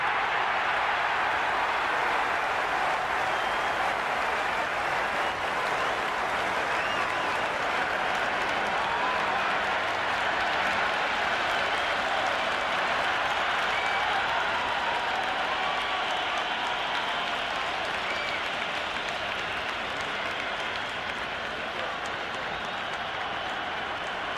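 Steady crowd applause and murmur from a virtual cricket stadium in the Cricket 26 video game before a match starts, a dense, continuous wash of clapping that holds evenly throughout.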